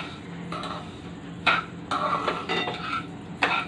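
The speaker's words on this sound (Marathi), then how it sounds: "आणि आता हे ढवळत राहायचं बारीक गॅसवर" Grated fresh coconut being stirred in a pan over a low flame with sugar melting in, giving repeated scraping and clinking strokes at an uneven pace, close and moderately loud over a soft background hiss, with no talking.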